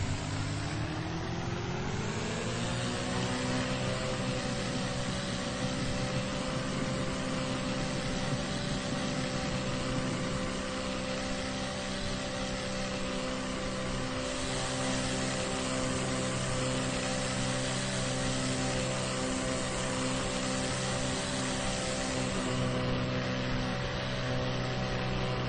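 Simulated Diamond DA-40 light aircraft taxiing in a flight simulator game, a steady droning piston-engine hum with broad hiss that runs unbroken and fairly loud, rising slightly early on, with no voices.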